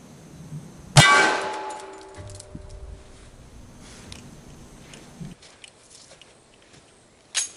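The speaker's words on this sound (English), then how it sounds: "This is a 45 ACP with a 230 grain bullet. Let's give it a shot." A 45 ACP 230-grain bullet strikes a bulletproof backpack with a single sharp, loud metallic clang that rings and decays over several seconds, followed by faint handling noises and a small knock at the end.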